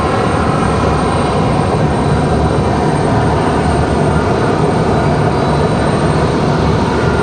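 An Alaska Airlines airliner taxis at Raleigh Durham airport, a steady, loud broadband engine roar and whine holding constant throughout without letup.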